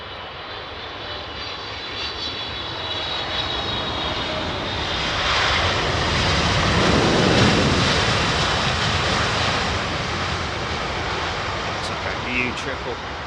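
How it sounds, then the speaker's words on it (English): A Qatar Boeing 777 passes overhead, its jet engines a broad, loud roar that swells toward the middle and slowly eases off while people talk over it. "This is Qatar's 777."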